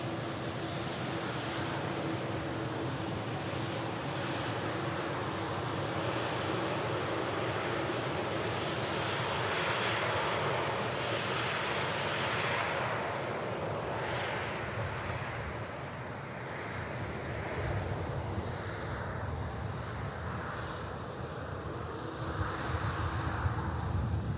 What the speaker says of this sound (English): Top Air Portugal. Arriving in from Lisbon.